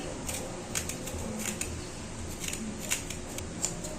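Ginger being peeled with a spoon, a series of short, crisp scraping strokes in an irregular rhythm, close up and fairly quiet with no talk.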